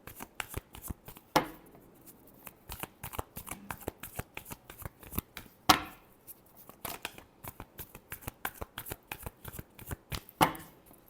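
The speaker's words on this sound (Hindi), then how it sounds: "last shuffle" Tarot cards being shuffled by hand, a rapid run of crisp riffling flicks with a few sharper snaps, close and fairly quiet with no talk over it.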